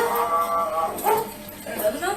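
A distressed dog whimpers and gives short yelping barks in several rising, whiny bursts, close by, mixed with people talking over it.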